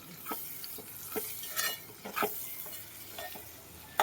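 Onions and bitter gourd fry in a pan for a bitter gourd curry, giving a steady close sizzle broken by repeated scraping stir strokes and light utensil clinks.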